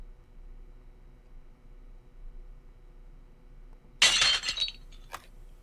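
Glass shatters in a video game, a sudden loud crash after several seconds of quiet low hum, followed by scattered tinkling fragments and a final small clink.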